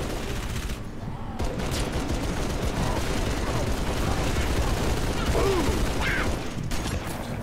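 Sustained turret gunfire in the video game Halo 3 ODST, a dense continuous battle clatter loud throughout with bursts layered on top.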